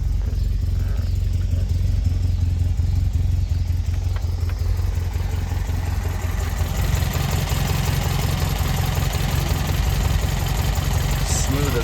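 A 1971 Alfa Romeo GTV engine idles steadily after a cold start, a continuous low rumble with exhaust burble holding even throughout, close and fairly loud.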